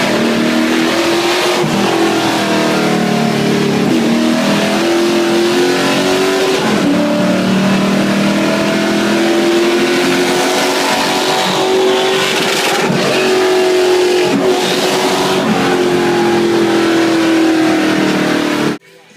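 Race car engine at Richmond International Raceway, a loud continuous roar that rises and falls through gear changes as the car pulls hard around the track, with people talking over it from inside the car.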